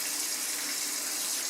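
Shower water running in an iPhone video game, a steady hissing spray that stays constant and fairly close throughout with no voices over it.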